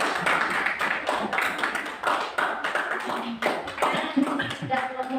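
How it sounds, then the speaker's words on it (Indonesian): Applause for a student group at a classroom mathematics session, a steady wash of clapping from a small crowd, with voices talking over it. "Berikan aplaus kepada kelompok."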